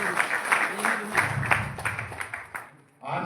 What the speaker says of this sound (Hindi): उनके लिए भी जोरदार तालियां बजाएं